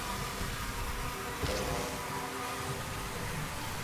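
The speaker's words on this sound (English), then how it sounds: "Man, the bee noise is the worst." Bee buzzing in the video game Sunless Skies, a continuous droning, insect-like hum sitting in a steady noisy background, loud and unbroken for several seconds with a brief brighter swell partway through.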